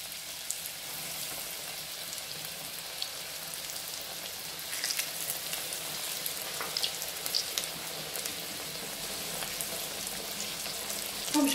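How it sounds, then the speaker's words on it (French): Steady crackling sizzle of aubergine pieces frying in hot oil, a dense continuous hiss with occasional pops, fairly quiet and close, no voices. "Bien chaude, on va directement passer à la friture"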